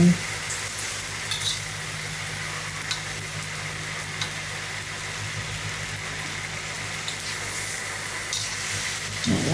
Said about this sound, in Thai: จะผัดไป